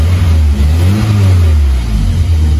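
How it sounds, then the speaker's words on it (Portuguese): The Cerejinha, a 1.6 car engine fitted with a quick-connect fuel filter, revs loud and close, a deep sustained rumble that swells slightly and holds steady without pause. "Mais uma acelerada."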